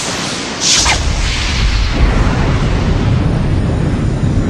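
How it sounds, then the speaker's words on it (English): A sharp whooshing burst opens into a sustained, loud, roaring explosion that rumbles on without fading, heard alone as an effect depicting the Big Bang. "Suddenly, the expansion began in a burst of energy called the Big Bang"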